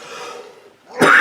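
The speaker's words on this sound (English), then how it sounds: "Excuse me, coughing." A man working on an oil painting of a Suffolk meadow gives one abrupt, close cough after a few seconds of soft breathing.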